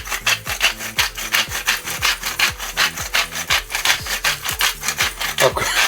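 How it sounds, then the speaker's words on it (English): A salt grinder set to a very fine grind turns in quick, even strokes, a close rhythmic gritty rasping that repeats many times without pause. "I've got this on a very fine grind, so not much is coming out."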